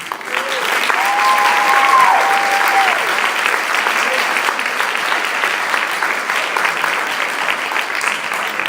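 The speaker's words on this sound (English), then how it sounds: "we give one more big round of applause" Audience members at a Class of 2015 honors ceremony give a big round of applause as honorees take the stage, loud and dense clapping with a few whoops early on, continuing steadily while voices carry underneath.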